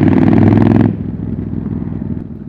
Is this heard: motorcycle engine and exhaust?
yes